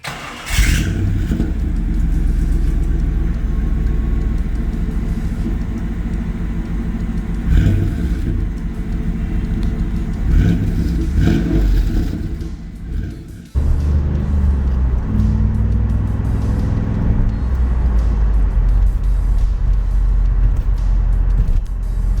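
A 1996 Camaro Z28 SS V8 with factory SLP muffler roars loudly with deep exhaust rumble, revving and accelerating up close, briefly dropping out before surging back.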